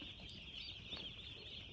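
Broiler chickens cluck softly and steadily inside a poultry house, a dense, continuous flock murmur with no single bird standing out and no voices.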